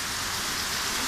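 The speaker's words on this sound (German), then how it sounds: "Es regnet immer stärker." Steady, dense rain pours during a thunderstorm over Fürstenwalde, heard from a balcony as a continuous close hiss with no voices.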